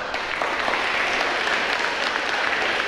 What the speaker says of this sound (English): then we can clap for them all together